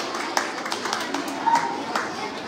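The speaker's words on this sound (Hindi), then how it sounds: "जोरदार तालियां हमारे सभी टीचर के लिए।" Applause from an audience at a school talent hunt award show, a dense patter of clapping hands with a few louder bursts, heard from within the crowd as teachers are called to the stage.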